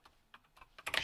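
Clicky keystrokes on a computer keyboard during setup of a C64 Mini Black Edition, a few scattered taps followed by a quick, dense burst of typing at the end, close and fairly quiet.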